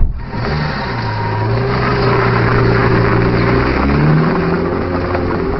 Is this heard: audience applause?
no